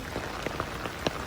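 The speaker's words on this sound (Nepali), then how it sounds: "कस्तो पानी पर्यो।" Heavy rain pours down in a constant roaring wash, with a few sharper spattering hits of drops striking a surface standing out above the steady downpour.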